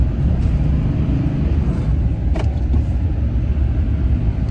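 A farm tractor stuck in the field labours in reverse, its engine a loud, steady low rumble that keeps droning without letting up.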